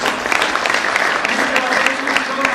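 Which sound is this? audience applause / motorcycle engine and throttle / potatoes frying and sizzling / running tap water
audience applause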